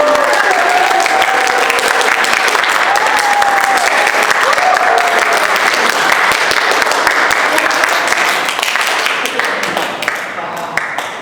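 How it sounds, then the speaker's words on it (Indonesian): A large audience at an entrepreneurship seminar claps loudly and steadily for several seconds, with a few cheers mixed in, before the applause begins to fade. "langsung saja kita sambut narasumber kita hari ini dengan tepuk tangan yang meriah"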